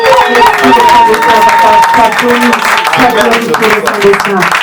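Church congregation at a seminar applauding and cheering, a continuous crowd roar with clapping under a loud voice and sustained sung or shouted tones.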